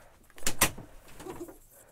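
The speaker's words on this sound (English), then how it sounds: "let me close the door" A door pushed shut in a room, two sharp close knocks of the latch and frame in quick succession, followed by softer rustling and faint movement.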